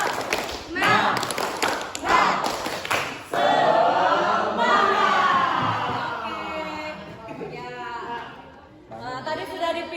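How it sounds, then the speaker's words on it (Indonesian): A classroom group claps a rhythmic spirit cheer: several sharp, patterned bursts of clapping in the opening seconds, then voices chanting and talking over quieter claps. "Yuk, tepuk semangat."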